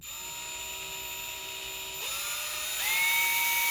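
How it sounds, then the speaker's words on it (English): A power drill whines steadily at close range as it drills into a metal blade, its high motor pitch stepping up as it speeds up, with no talking. "I think I'm going to give drilling another shot now."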